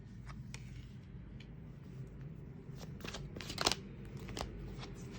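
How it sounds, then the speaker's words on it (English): Tarot cards are shuffled by hand during a reading, giving soft, quiet papery riffles and crisp flicks, with one brief louder burst partway through. "Let me just shuffle a few more cards."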